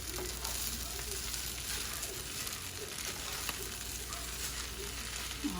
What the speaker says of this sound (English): I'm doing extra stirring.